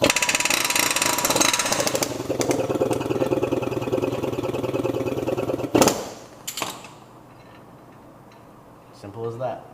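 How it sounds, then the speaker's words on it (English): Air hammer knocking a wheel stud out of the hub on a G35 drift car, a loud, dense rapid rattle of impacts running steadily for several seconds, then a sharp final knock and quiet shop noise. "we'll grab the air hammer"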